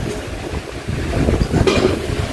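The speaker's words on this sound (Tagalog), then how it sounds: "Mahangin." Wind gusts buffet the microphone in low, uneven rushes, growing stronger toward the end.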